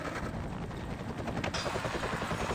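Helicopter in the video game Tony Hawk's American Wasteland, a steady loud rotor drone with a fast chopping pulse that grows more distinct toward the end, with no talking.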